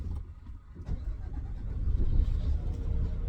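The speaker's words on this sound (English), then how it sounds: "Let's start our engine and kick off." An automatic 500-horsepower truck's engine starts up inside the cab and settles into a steady low diesel rumble that grows slightly louder toward the end, with no talking over it.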